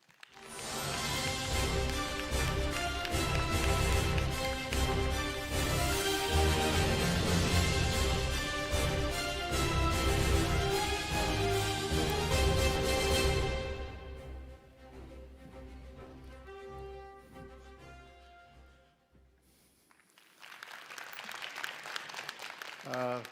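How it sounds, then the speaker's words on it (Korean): Audience applause at a regional development forum as a speaker is welcomed to the stage: loud, dense clapping over a bright musical fanfare for about thirteen seconds, fading out, then a shorter renewed burst of clapping at the end. "박수로 모시겠습니다."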